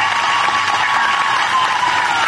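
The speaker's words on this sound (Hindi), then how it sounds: "ताली बजाइए अतुल भाई के लिए सभी लोग।" Crowd applause for candidate Atul Bora at an Asom Gana Parishad–BJP alliance rally: a dense, steady wash of many hands clapping, loud and continuous, with no talk.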